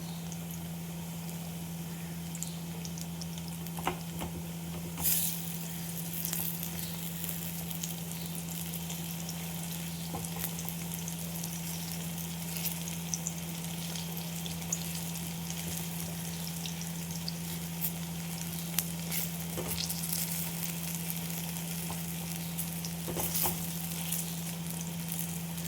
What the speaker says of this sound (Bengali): এইভাবে উল্টে পাল্টে আমি ভেজে নেব বড়াগুলো।